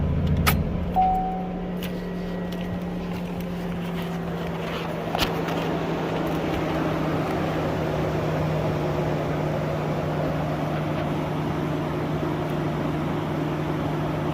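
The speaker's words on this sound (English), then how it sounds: "you guys are going to be able to hear that the radiator fans are still on" A steady low mechanical hum of a 2014-or-later Chevrolet Silverado's radiator fans runs continuously after a brief engine shutdown, with a few faint clicks early on.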